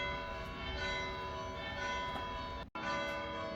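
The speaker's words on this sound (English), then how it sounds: "one of my favourite things in the town are the church bells" Church bells ring in a town in Salento, Italy, a sustained, overlapping metallic ringing with rich lingering overtones that fills the whole clip, broken by a brief dropout near the end.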